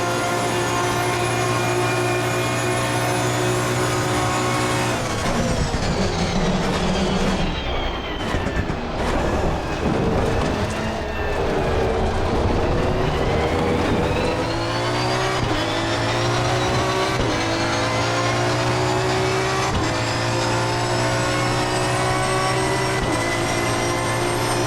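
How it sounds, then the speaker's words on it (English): Aston Martin V12 Vantage GT3 engine roaring steadily through a fast hot lap at Monza in Assetto Corsa Competizione, with loud sustained revs, gear shifts and a brief rough patch of braking and downshifts midway. "let's go ahead and take a look at the hot lap that I laid down on Monza with this Aston Martin"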